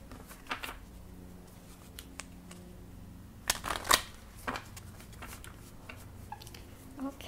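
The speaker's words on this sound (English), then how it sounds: "Cards are sliding everywhere today." Tarot cards being shuffled and sliding, soft scattered riffles and taps with a louder flurry midway, close and quiet under light talk.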